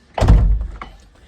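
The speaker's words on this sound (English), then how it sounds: "Closing the door again," A door on a custom car build, the Thump Wagon, swings shut with one loud, close thunk and a brief rattle as it settles. No one speaks.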